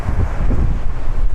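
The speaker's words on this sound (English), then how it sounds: "Wind is really kicking up. It looks like gusts of about 20 miles an hour." Strong, gusty wind on the Las Vegas Strip buffets the microphone in a steady low roar that swells and dips, loud and close, with no voices.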